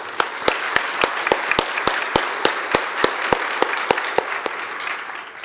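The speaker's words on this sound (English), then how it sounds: "I would like to invite us all for a warm round of applause to our panelists." Seminar audience applauding the panelists at a strategic trade management event, a steady round of clapping with distinct sharp claps standing out at a regular pace, no talking over it.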